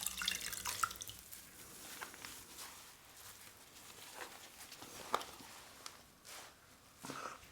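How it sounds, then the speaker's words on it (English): Water from a tap trickles and drips onto a washcloth at a sink during a morning skincare routine, a soft, faint patter with scattered droplets and a few light knocks, no voices. "I'm going to wet my washcloth and dampen my face"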